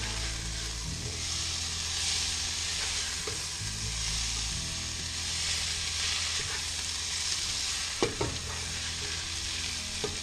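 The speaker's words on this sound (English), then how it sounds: "Give that a stir." Shaggy mane mushrooms fry in a pan with pepper, a constant close sizzle with occasional scraping knocks of a utensil stirring the pan, and no talking.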